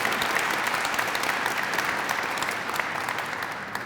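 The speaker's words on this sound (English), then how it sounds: "So let's applaud you here today because you deserve your flowers" Sustained audience applause at a Black History Month closing luncheon, a thick, even roar of many hands clapping that eases slightly toward the end.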